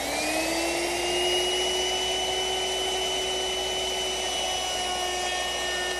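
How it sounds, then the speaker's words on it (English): A router fitted with a 1/4 inch round-over bit runs steadily at a high, even whine while easing the edges of wooden rocking horse side pieces, loud and unbroken for the full stretch. "I'll ease the edges using a router with a 1/4 inch rounding over bit"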